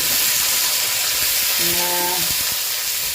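Onions frying in a clay pot, a steady close sizzle and hiss with a faint tonal hum partway through.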